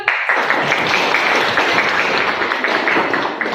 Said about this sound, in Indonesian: Kalau tepuk tangan untuk bunga